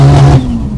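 A 500bhp Honda Civic Type R EP3 engine revs hard from inside the cabin, a loud droning growl that falls away as the revs drop, heard close with no talking.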